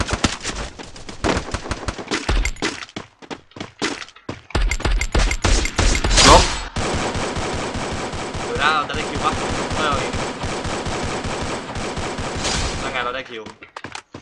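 Rapid gunfire in Free Fire, a dense run of sharp shots and bursts with a loud volley around the middle, then steadier crackling fire. Someone talks over it throughout.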